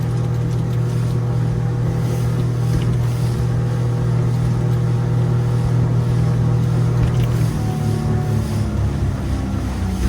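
A Quicksilver 705 Open motorboat cruises at 26 knots, its outboard engine holding a loud, steady low drone over constant wind and water rush, with a slight pitch shift near the end.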